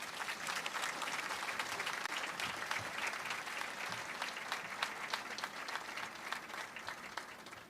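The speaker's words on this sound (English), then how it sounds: "dible advisors, Ms. Rieger and Mr. Prahalis, a huge round of applause." Audience at a Commack High School graduation ceremony applauding steadily, a dense sustained round of clapping from a large crowd, loud and even throughout with no voices standing out.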